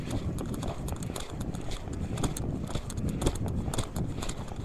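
Horse hooves clip-clop in a quick, continuous rhythm during ranch riding training, close and fairly loud over a busy background.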